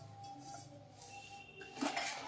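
A plain metal plate for holding incense sticks is handled and set down, producing a few soft metallic clinks and a brighter clank near the end, faint and close.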